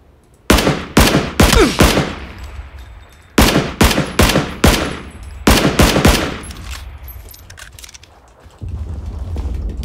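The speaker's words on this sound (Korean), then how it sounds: "저기서 총소리가 나는데 도대체 어딨냐?" Gunfire in PUBG: Battlegrounds, with several loud, close bursts of rapid automatic fire separated by short pauses, each burst leaving a ringing tail, and a low ambient hum at the end.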